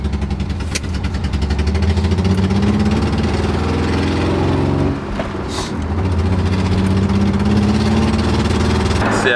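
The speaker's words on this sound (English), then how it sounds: "you're gonna hear the exhaust leak, how it sounds, and the lack of power that I have." BMW E90 M3 engine with an exhaust leak while driving, a loud steady droning exhaust note with raspy leak character, briefly dipping midway before resuming at constant load.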